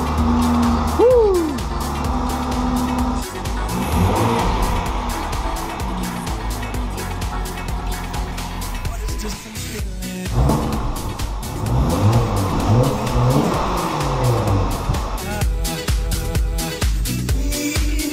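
A car's engine fires up and revs repeatedly after a cold air intake install, loud and close, with surging swells. Excited voices talk and cheer over it.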